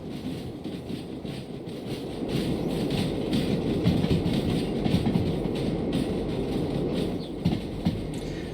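A locomotive and slug shunt a long train of railcars in daylight, giving a steady rolling rumble with rhythmic clickety-clack of wheels over rail joints, growing slightly louder after the start.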